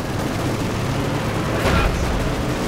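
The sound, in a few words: gunfire in a World War II strategy video game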